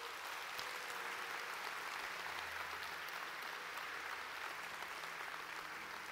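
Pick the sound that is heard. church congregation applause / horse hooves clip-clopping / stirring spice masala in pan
church congregation applause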